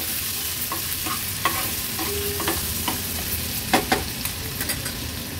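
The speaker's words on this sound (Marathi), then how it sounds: "आलं लसूण क्रश लो फ्लेम वर छान परतून घ्यायचे" Crushed ginger and garlic with turmeric fry gently on a low flame, a soft, steady sizzle broken by scattered clicks and scrapes of stirring, with no voices.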